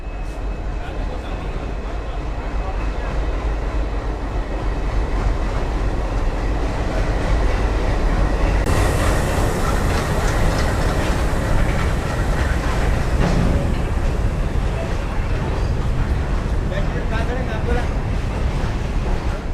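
A loud, continuous rumble and clatter from an Indian freight train rolling into Purna station, with dense rail noise and wind throughout and a harsher, brighter roar partway through.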